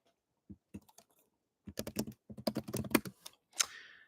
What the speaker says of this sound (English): I'm typing a little message here in the chat.